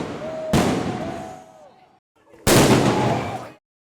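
Two loud bursts of fireworks go off in city streets during the Fourth of July, each a sharp crack followed by crackling and booms echoing off buildings, with a short lull between them.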